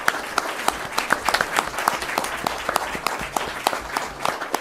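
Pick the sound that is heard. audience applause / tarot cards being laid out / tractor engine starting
audience applause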